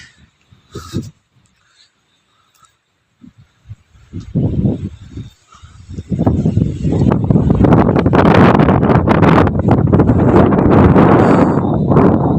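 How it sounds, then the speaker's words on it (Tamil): Strong wind blowing across open ground beside a dam in the Athirimalai hills, starting as scattered faint gusts then swelling into loud, continuous buffeting roar against the microphone. "காற்று நல்லா காற்றடிக்குது."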